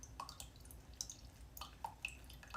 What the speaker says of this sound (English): And all that juice keeps falling down.